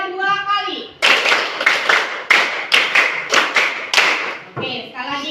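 Hands clapping in a counted classroom rhythm, with a run of sharp, loud claps after a voice counts, followed by a short pause and then more speech.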